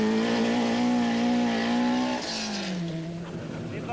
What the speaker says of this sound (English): Brooks stirs the stones on his way past